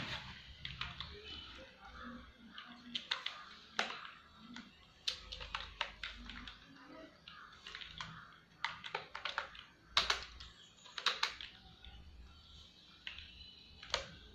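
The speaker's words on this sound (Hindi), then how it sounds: "जैसे मान लीजिए लेसन 5 हमने टाइप कर दिया" Typing on a computer keyboard during a word-processing lesson: irregular bursts of sharp, close key clicks and taps with short pauses between them, alone without talk.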